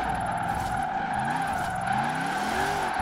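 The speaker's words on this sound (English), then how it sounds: "Okay, let's try to drift it with this." A Rossion Q1 drifting in Forza Horizon 4, a steady engine drone with tires squealing and skidding through the slide, the engine pitch rising and falling as the car slides, loud and close throughout.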